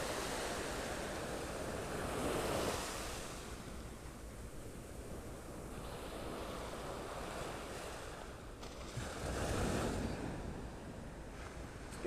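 Surf at Vanderbilt Beach in North Naples rolls in as a steady broadband wash, with a few louder breaking swells rising and fading over the constant roar, mixed with wind buffeting the microphone and no voices.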